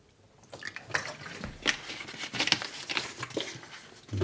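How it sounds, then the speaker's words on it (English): Water is poured into a plastic film developing tank for black and white film, a steady close splashing and gurgling stream of roughly 400 millilitres, with no talk. "I will start with pouring in approximately a little bit more than 400 milliliters of water"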